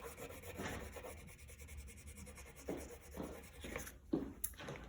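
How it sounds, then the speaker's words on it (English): Brown crayon lightly colouring on paper, soft rubbing and scratchy strokes repeating in uneven bursts, close and quiet, with a few small taps near the end. "I'm going to take the brown crayon and color the dirt again. Not pressing hard, just lightly."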